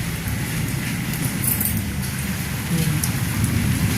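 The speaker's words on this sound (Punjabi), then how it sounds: "ਮੀਂਹ ਤਾਂ ਜ਼ਮੀਨ ਹੀ ਹਟਣ ਦਾ ਨਾਮ ਲੈਂਦਾ" Steady rain falls outdoors, producing a continuous soft patter and hiss with a faint low rumble underneath, holding at a constant level across the moment.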